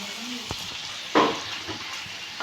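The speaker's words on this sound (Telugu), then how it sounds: "ఇది లో ఫ్లేమ్లో మాత్రమే వేయించుకోవాలండి" Chicken liver frying in a pan over a low flame, a gentle continuous sizzle with a short louder spatter and a few light utensil clicks near the start.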